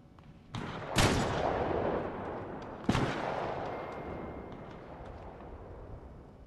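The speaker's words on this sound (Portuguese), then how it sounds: "esse tiroteio todo em volta pra gente" Gunfire surrounds the player in a Fortnite match. Two sharp, loud gunshot cracks land about two seconds apart, each followed by a long rumbling decay, over low background noise without speech.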